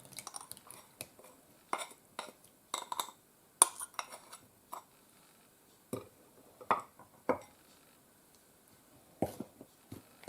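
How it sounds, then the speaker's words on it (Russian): A spoon stirs eggs in a bowl for homemade pirozhki dough, with irregular clinks and scrapes, some sharp and bright, scattered across a quiet kitchen with brief pauses between strokes. "Так, это размешиваю."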